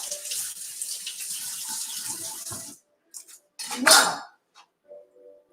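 Water runs from a kitchen tap while spanakopita is being prepared, a loud, steady splashing rush for nearly three seconds before it cuts off, followed by a few short clatters and faint sink noises.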